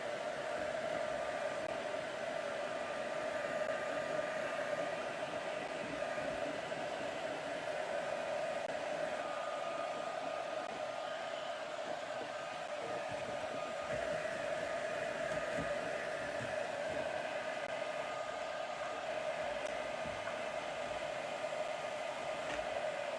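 A hair dryer blows steadily to dry paint on a mixed media canvas, a loud, even whooshing drone that holds unbroken for the whole stretch with no talking.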